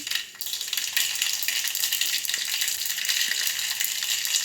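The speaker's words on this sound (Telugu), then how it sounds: "స్టవ్ ఆన్ చేసి బౌల్ పెట్టి తగినంత ఆయిల్ పోసి మెంతులు యావాలు జీలకర్ర" Fenugreek, mustard and cumin seeds sizzling in hot oil in a bowl on a stove, a close, bright, continuous crackling hiss with tiny popping seeds throughout.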